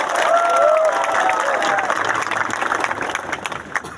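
Rally crowd applauding and cheering at a political gathering, a dense wash of clapping that is loud at first and thins toward the end, with whistles and raised voices mixed in.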